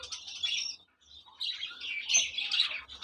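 Chicks in a breeding box give high, thin chirps in quick bursts, close by, with short pauses between calls.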